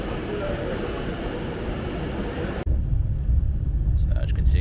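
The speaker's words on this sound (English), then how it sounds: "So this is our train down to London and then up to Oxford." A passenger train heading to London, a steady rumbling roar of wheels and carriage that cuts abruptly to a deeper, louder low rumble partway through, with talk faintly mixed in.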